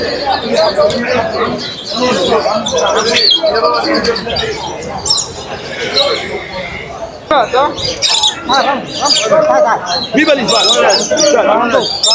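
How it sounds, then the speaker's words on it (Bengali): Many caged birds chirp and squawk at once at a busy bird market in Riyadh, a dense, close chorus of overlapping calls beneath loud nearby talk. "পুরো পাখির কিচির মিচিরে জমজমাট হয়ে গেছে"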